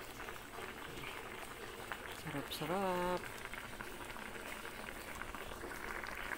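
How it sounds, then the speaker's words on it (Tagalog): Paksiw stew (pinangat) bubbles at a steady simmer in a pot, a soft continuous burble, while a voice briefly speaks over it. "Kumukulo na po yung paksiw natin,"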